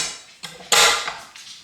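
A small bowl and whisk set down on a counter in a farm kitchen while baking, two brief clinks a fraction of a second apart, the second louder and ringing briefly.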